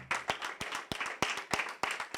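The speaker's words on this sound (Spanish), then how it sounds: "Dale ese aplauso fuerte al Señor." A church congregation claps in a strong, regular rhythm, each sharp clap standing out clearly above a rustling crowd background, near and fairly loud.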